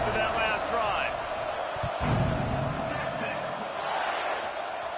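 A stadium crowd in a college football video game keeps up a steady, loud roar around the kickoff, a dense wash of cheering that runs under a commentator's continuous talk.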